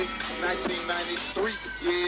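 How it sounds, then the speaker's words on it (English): A bell sample plays a melodic line in an old-style phonk beat, bright tonal strikes ringing out with a few short pitch-bending notes, close and clear with no drums behind it. "instead of using the cowbells, I switched it up and I used the bells"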